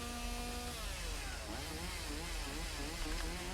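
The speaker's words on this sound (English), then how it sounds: "Chainsaw sounds." A chainsaw runs continuously at a moderate distance, its whining pitch rising and falling as it revs, with no talk over it.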